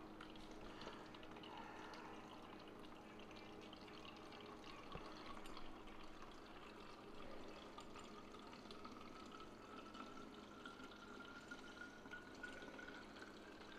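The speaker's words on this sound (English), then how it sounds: "Fill the bad boy up with some water." Water runs steadily into a plastic shaker bottle in a gym, a continuous faint trickle with a slowly rising pitch as the bottle fills, alone with no talking.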